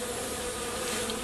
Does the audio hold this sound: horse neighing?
no